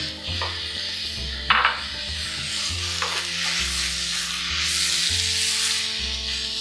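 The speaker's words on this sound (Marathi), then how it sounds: "ही कोलंबी आपण त्याच्यात घालायची कांद्यावरच चांगली परतून घ्यायची व्यवस्थित" Prawns sautéing on browned onions in a pan for kolambi aamti, a dense steady sizzle with occasional scraping stirs and a couple of metallic scrapes of the spatula, over soft background music.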